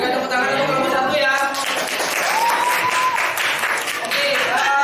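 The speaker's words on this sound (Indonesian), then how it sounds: "Berikan tepuk tangan untuk kelompok 1" A group claps and applauds in a classroom, a steady wash of clapping lasting the whole stretch, with voices talking over and under it.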